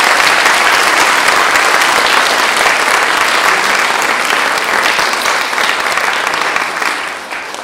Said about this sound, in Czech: To si zaslouží potlesk,